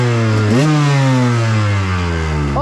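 Motorcycle fitted with a VeeMoto Apex tire and a Keihin 36mm carburetor, ridden slowly over slippery, freezing rocks, its engine droning loud and close with one brief rev that rises and then settles back to a steady low throb.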